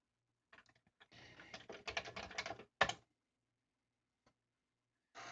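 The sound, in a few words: typing on a Commodore 64 keyboard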